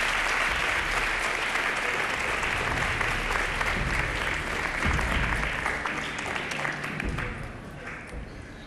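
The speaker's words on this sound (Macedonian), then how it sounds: "Аплауз за Бети." Steady applause from the studio audience of a televised singing competition, a broad continuous clapping that runs for several seconds and tapers slightly toward the close, with a low rumble beneath it.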